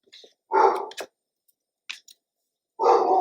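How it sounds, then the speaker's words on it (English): A pet dog barks in the background in short, loud bursts with gaps of quiet between them, fairly close to the microphone, with no talking over it. "that is my dog in the background"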